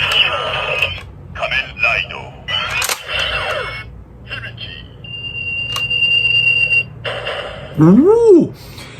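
Electronic sound effects from a Kamen Rider Hibiki toy transformation belt, with bright beeps, chimes and a rising-falling synthetic whoop, loud and up close, played in short bursts.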